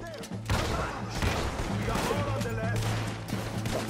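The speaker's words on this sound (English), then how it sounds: "Shotgun." Shotgun blasts during a train heist gunfight in Red Dead Redemption 2, with several booming shots close together amid a dense, noisy shootout while someone talks over the action.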